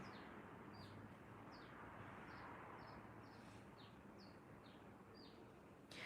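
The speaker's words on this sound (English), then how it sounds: "The only noise I'm hearing right now is the birds outside." Faint birds chirp outdoors, short high calls repeating at a steady pace over a quiet hiss.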